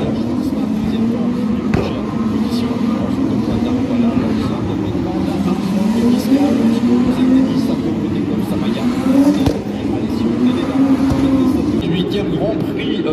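FIA Formula 2 race cars run at the Monaco Grand Prix, a continuous engine drone with rising pitch sweeps as cars pass, heard amid crowd and ambient noise with some voices mixed in.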